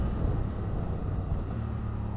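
Honda Rebel 1100 DCT motorcycle in sport mode under a big handful of throttle, a loud, continuous low engine roar mixed with wind rush, the tone shifting partway through.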